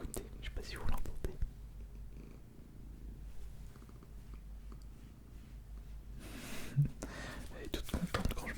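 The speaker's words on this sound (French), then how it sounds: "Il fait que de miauler, enfin que de faire ces petits propos, ces petits ronronnements." A contented cat purring close up, a soft continuous low rumble with faint rustling and brief whispered sounds over it.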